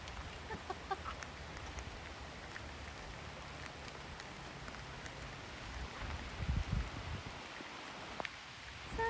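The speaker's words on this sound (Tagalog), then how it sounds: "Sabi mo, umuulan na din." Steady rain patters across a lakeside campsite during overnight car camping, a dense continuous hiss with a few louder drops and scattered close taps, with no talking over it.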